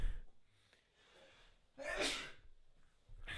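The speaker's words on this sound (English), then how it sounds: "I need to sneeze." A single sharp sneeze bursts out near the microphone midway, preceded by quiet breathing and a faint intake.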